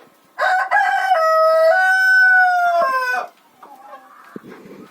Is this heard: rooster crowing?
yes